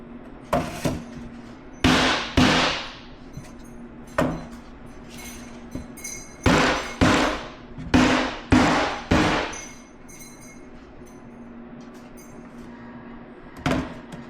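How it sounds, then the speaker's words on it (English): Glued joints of a wooden beehive box being whacked on a plastic cart to seat them, about a dozen loud sharp knocks, mostly in pairs and short bursts, with pauses between and one last knock after a long gap. "And now I'm going to give it a couple whacks to make sure it's all seated"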